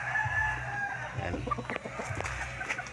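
A rooster, a winning fighting cock paired up with a hen, crows and clucks nearby in a steady outdoor scene, its calls rising over a low background hum while a person briefly speaks.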